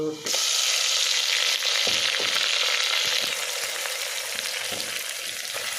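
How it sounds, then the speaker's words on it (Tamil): Onions or other food frying in hot oil in a pan, a steady loud sizzle with crackling throughout, close and continuous, with a few soft utensil stirs and no talk. "நல்லா பொரியட்டும்."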